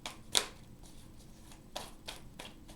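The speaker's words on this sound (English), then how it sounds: "I knew they were guiding me to shuffle a couple times at the bottom of the deck" Tarot cards shuffled by hand in a few separate bursts, one sharp riffle near the start and softer ones later, close and fairly quiet with no talking.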